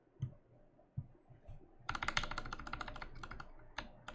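Typing on a custom C3 Kiwi mechanical keyboard with slightly dampened, mushy modifier keys: a few isolated thocks, then a fast, close run of crisp keystrokes in quick rhythm.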